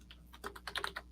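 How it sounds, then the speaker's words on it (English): Quick keystrokes on a computer keyboard while typing into a chat, a short burst of soft clicks speeding up toward the end, faint and close over a low steady hum. "So I'm typing this in the chat right now."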